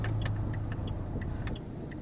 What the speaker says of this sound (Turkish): Sinyali sola veriyoruz.